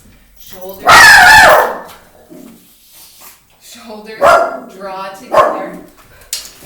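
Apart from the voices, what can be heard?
dog barking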